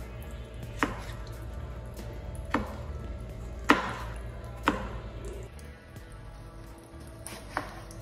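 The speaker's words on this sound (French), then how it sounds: "Je vais couper pour avoir une place." A knife chopping food on a cutting board while making tacos: a handful of sharp, separate chops spaced a second or so apart, close and fairly loud over a steady low room hum, with no talking.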